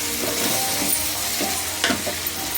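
Chicken simmering and being stirred in a pan, a steady soft sizzle with a few scraping stirs of the spoon, close and continuous, with no talking.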